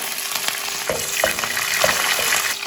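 Garlic, green chilies and curry leaves fry in hot oil, a steady close sizzle with light scraping stir strokes breaking through at intervals.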